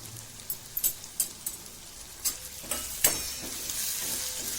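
Turmeric, coriander-cumin powder and chili powder sizzle in hot oil for an eggplant dal while a spoon stirs them, scraping the pan in irregular strokes over a steady frying hiss.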